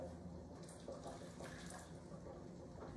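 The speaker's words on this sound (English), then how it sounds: "add 1 cup of the pasta water to your pan with the pepper" Faint pouring of a cup of pasta water into a pan holding pepper while cooking cacio e pepe, a soft continuous liquid trickle and splash close by.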